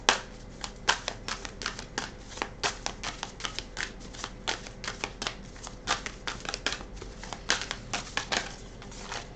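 Lunology oracle cards are shuffled and drawn by hand at close range, making a long run of quick, crisp riffling and flicking with uneven rhythm. No one speaks.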